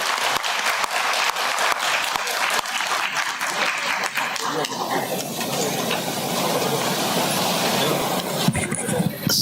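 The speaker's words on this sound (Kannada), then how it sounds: "ನಾವೆಲ್ಲರೂ ಒಮ್ಮೆ ಎದ್ದು ನಿಂತು ಜೋರಾಗಿ ಚಪ್ಪಾಳೆ ತಟ್ಟೋದ್ರ ಮುಖಾಂತರ ಈ ಸಭೆಗೆ ಗೌರವ" An audience at a book event stands and applauds loudly, with dense, sustained clapping filling the hall for the whole stretch and some murmuring underneath.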